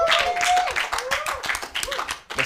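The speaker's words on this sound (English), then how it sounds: "A round of applause for them." Clapping from an audience at a university law competition, scattered and uneven under voices and a tonal whine, fading in bursts rather than building to full applause.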